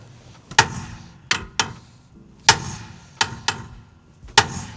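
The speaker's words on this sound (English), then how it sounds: "I gave it a few whacks, kind of moved, kind of didn't." A hammer strikes a van's ball joint in seven sharp metallic whacks, close and loud, spaced irregularly in ones and pairs over a quiet workshop background.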